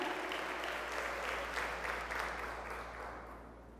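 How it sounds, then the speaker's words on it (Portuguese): A church congregation applauds together during a sermon, a sustained burst of many clapping hands that swells in the middle and gradually tapers off, with a low hum beneath. "Então aplauda ao Senhor Jesus mais forte."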